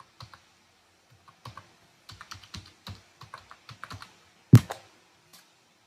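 Typing on a computer keyboard, entering a demo GSTIN number into Tally Prime accounting software: scattered bursts of light key clicks with short pauses and one sharper, louder keystroke near the end, close and alone with no talk.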